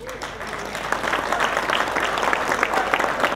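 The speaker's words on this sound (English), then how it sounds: "this deserves a round of applause" A crowd applauds at a Lamborghini launch event in Sri Lanka, steady sustained clapping from many hands filling the whole stretch at moderate loudness, with no talking over it.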